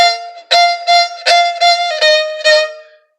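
A Pontic kemenche lyra plays a quick back-and-forth run of about seven short, reedy bowed strokes, close and loud, each note starting with a scratchy attack.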